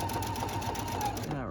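A Husqvarna Viking sewing machine stitches braid trim, a fast rhythmic whirring with rapid needle pulses over a brief moment before it winds down, with a voice heard alongside.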